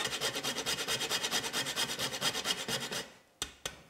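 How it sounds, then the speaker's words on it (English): A knob of nutmeg is rasped against a grater in about two dozen quick, even strokes, close and clear, then stops with two sharp knocks. "I'm going to grate in at least half of this knob of nutmeg"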